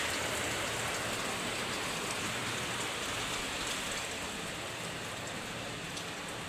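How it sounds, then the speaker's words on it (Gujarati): Rain pouring steadily outside a room near coconut trees, a dense even hiss that eases slightly toward the end, with no voices over it. "મિત્રો આપણે અહીંયા વરસાદ થઈ ગયો છે ચાલુ."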